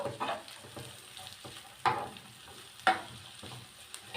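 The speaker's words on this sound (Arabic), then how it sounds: "انا هنزل مع بصدور الفراخ مع البصل على طول" Chicken breasts and onion frying together in a pan, a soft continuous sizzle with a few sharper stirring knocks and scrapes, fairly quiet and close, no talk.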